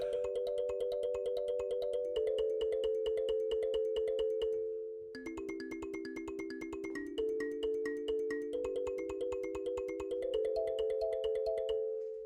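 Kalimba tones run through an arpeggiator, producing rapid, evenly repeating bright plucked notes in cycling patterns that shift pitch every couple of seconds, sounding like a phone ringtone, soft and continuous with a brief pause midway.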